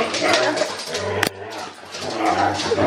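Dogs bark and whimper in a busy, restless jumble, with one sharp bang partway through.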